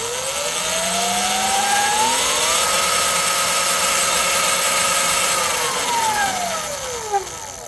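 E-bike fitted with a KANIWABA E Ride Pro electromechanical power kit driving its chain at full speed: a steady whine rises in pitch, holds high for several seconds, then falls away, over continuous mechanical rumble with no talk.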